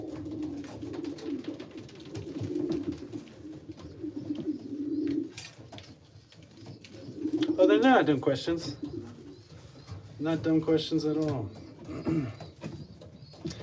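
Pigeons cooing inside a racing pigeon loft, low repeated coos running steadily through the clip beneath close conversation, with a few louder bursts of calls partway through.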